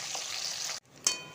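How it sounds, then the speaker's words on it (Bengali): Small mourala fish sizzle in hot oil in a pan, a close, steady frying hiss that briefly cuts out and then flares back up. "এবার ভাজছি, তারপরে এটা বেশ কষা কষা করে একটু রান্না করব।"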